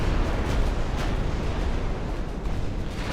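Naval cannon fire from heavy cruisers in the warship game Ultimate Admirals: Dreadnoughts, a loud, dense wall of rumbling booms that blur together continuously, with no voices.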